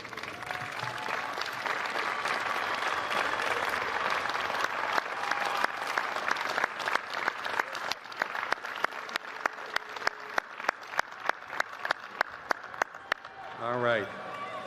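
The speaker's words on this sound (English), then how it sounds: "give them a wave and a little bit of applause to say thank you" At a Bridgewater State University undergraduate commencement, graduates turn and applaud their families and friends: a broad wash of crowd clapping that thins into scattered distinct claps near the end, with a brief voice at the close.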